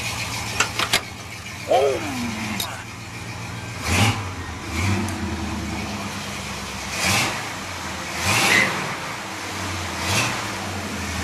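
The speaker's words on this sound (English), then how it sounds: "He revved the motor." The engine of a 1972 Chevrolet Jimmy is revved repeatedly, rising in about five distinct swells spaced a second or two apart over a steady idle. A person briefly exclaims near the start.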